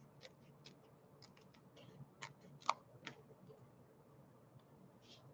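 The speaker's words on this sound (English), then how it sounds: "I'm just going to cut my dimensionals really skinny right off the side here." Scissors snip through foam dimensional adhesive strips in a series of short, quiet, close cuts, with one sharper click partway through and the rest faint, with no voice.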